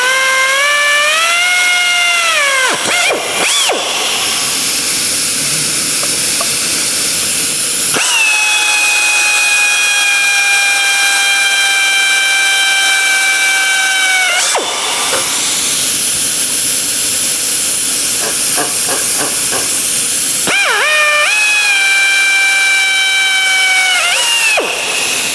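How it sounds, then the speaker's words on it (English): Rivet holes being drilled into metal with a number 30 drill bit: a loud, high-pitched power drill whine that runs in long sustained bursts, pausing briefly between holes and spinning up again. "I will finish drilling all the holes out at this time."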